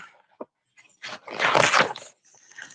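A voice imitates a dog barking: one short, close woof followed by a longer, louder bark-like burst, with quiet pauses around them.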